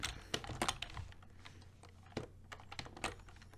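Code being typed on a computer keyboard: quick clusters of close, crisp key clicks in an uneven rhythm with short pauses between them, and no talking.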